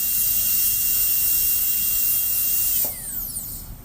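A high-pitched dental drill fitted with an 845 bur whines steadily while reducing a tooth for a stainless steel crown. It is close and continuous, then drops off and winds down near the end.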